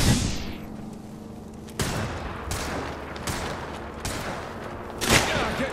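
Bursts of rapid gunfire and impacts ring out in the Apex Legends battle royale game, several sharp volleys at irregular intervals over a steady mid-level din, with no talking.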